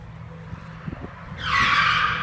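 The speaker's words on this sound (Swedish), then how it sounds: "Ja, det var bara en bil." A single car approaches and passes close by, its broad tire-and-engine rush swelling loudly in the second half and holding steady, with no talk over it.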